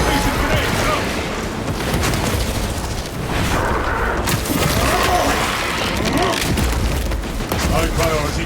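Fragmentation grenades blasting in Space Marine 2 amid Tyranid combat: dense, continuous booms and crackling bursts layered with gunfire and battle noise, loud and close throughout, with in-game voices mixed in.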